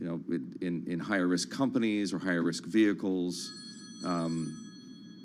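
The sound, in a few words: phone ringing during a live broadcast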